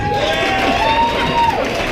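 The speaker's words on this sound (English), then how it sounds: "give yourself another round of applause" Crowd at a wrestling event at South Broadway Athletic Club, an MMWA Hall of Fame show, applauding and cheering in a steady wash of noise, with a whistle-like tone and voices mixed in.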